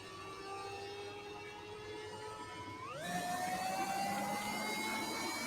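The Scorpion vehicle engine in the Roblox game Jailbreak gives a steady synthetic whine that jumps up in pitch about halfway through and keeps droning at the higher, louder level, with no talk over it.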